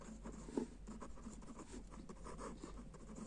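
Pen scratching across paper while maths working is written out, a steady soft scribbling with one brief stronger stroke, faint and close, with no talking over it.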